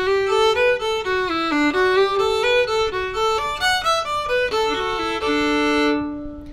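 Solo fiddle plays the first variation of the B part of The Eighth of January, lively bowed phrases with quick note changes, heard close and alone before the tone rings off at the end.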